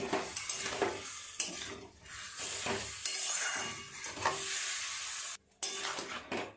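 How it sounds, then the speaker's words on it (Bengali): Raw mango pickle with sugar stirred and bubbling in a pan, giving repeated scraping strokes of a spoon over a soft sizzle and simmer, fairly close and quiet, without speech. "আর একটু নেড়ে চেড়ে ফুটতে দেব।"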